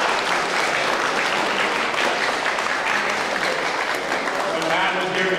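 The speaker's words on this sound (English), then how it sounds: "So how about a big round of applause before we head out?" A big round of applause from a school audience at a presentation in Dover Bay Secondary School, thick steady clapping with a few cheers and voices mixed in, continuous for over five seconds.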